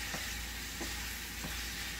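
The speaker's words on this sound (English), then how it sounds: "So I'm stirring this up in here." Food stirred in a hot pan, giving a soft continuous sizzle with faint scraping strokes at regular intervals, quiet and without talk.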